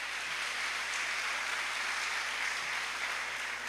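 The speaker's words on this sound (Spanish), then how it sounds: "lo primero que yo quisiera hacer es que les diéramos un aplauso muy grande" Steady, faint applause from an audience at a community gathering of entrepreneurs in Guaviare, a dense continuous wash of many hands clapping at a distance with no break.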